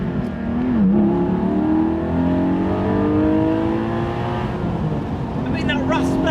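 Porsche 718 Spyder engine under acceleration, a raspy rising drone with revs climbing through gears, loud and close, while someone talks over it.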